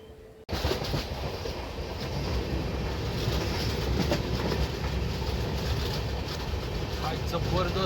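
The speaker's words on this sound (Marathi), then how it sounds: "गाडी आता रत्नागिरी रेल्वे स्टेशनवरून डिपार्चर होत आहे" A Mumbai–Madgaon Jan Shatabdi Express pulls out of Ratnagiri station. A loud, steady rail rumble kicks in abruptly within the first half second and continues unbroken at close range.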